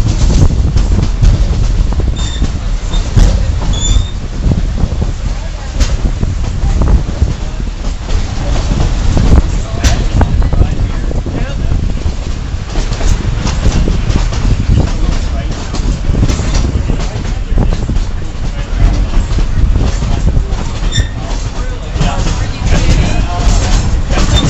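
A steady low rumble inside a moving train carriage, with constant wheel and track noise and faint clicks throughout, and people talking over it.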